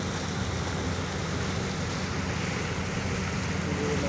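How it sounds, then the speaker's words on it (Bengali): A speed boat passes on the muddy Meghna river, heard as a steady, continuous rush of engine and water noise with no change in level throughout. "একটা স্পিড বোট যাচ্ছে,"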